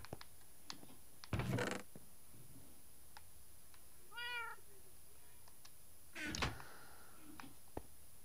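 Cat meowing inside the video game Minecraft: a single clear, melodic meow of moderate loudness midway, set among sparse clicks and a couple of louder thumps, with no talking.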